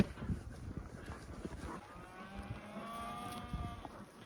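A steer calls out for its buddy back at the barn, letting out a single drawn-out moo at moderate distance over faint outdoor background noise.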